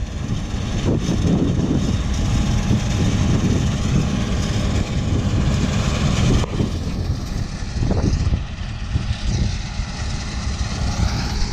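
Case 580 combine harvester working a drought-stricken chickpea field, a steady loud engine drone with mechanical rumble that persists the whole time, close by and without talk.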